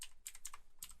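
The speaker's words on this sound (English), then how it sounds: "I'm struggling here with the typing" Rapid clattering keystrokes on a computer keyboard while Python code is written for a platformer game, with several quick bursts of clicks and brief pauses over about a second.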